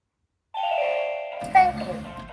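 A Nayax card reader on a 14-inch Super Mini claw machine sounds a clear electronic approval chime, a sustained two-tone ding-dong starting after a short silence, followed by a synthesized voice prompt.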